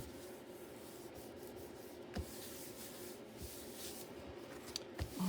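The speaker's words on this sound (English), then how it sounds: "I'm rubbing the glue off while I can." Glue is rubbed off a handmade train-themed journal, a faint continuous scratchy rubbing with a couple of small taps, close and quiet with no talk.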